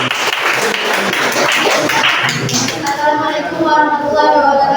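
An audience at a teacher performance test session claps, a dense burst of applause that fades as a voice begins speaking over it.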